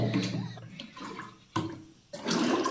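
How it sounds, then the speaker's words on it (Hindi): Water is collected for drinking at a spring in Uttarakhand, a steady rushing and splashing stream that dips briefly and surges back, close and fairly loud. "ये थोड़ा सा पानी पीने के लिए भर लिया।"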